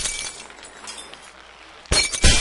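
Glass shatters in the video game Happy Wheels, a sudden bright crash that breaks into a second, louder burst of tinkling shards after a quiet stretch of low game ambience.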